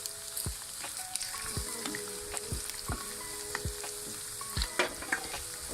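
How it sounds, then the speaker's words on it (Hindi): Chicken fries uncovered in an open pan with a soft continuous sizzle, dotted with sharp, irregular pops and crackles of spitting oil, fairly quiet and close. "तो हमने इसे ऐसे खुला फ्राई करना है।"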